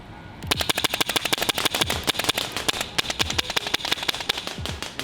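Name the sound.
MTW Forged Series airsoft rifle shooting a steel plate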